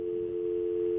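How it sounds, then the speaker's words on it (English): A steady, unbroken telephone dial tone hums quietly and evenly through the whole short stretch. "This is a dial tone now, isn't it?"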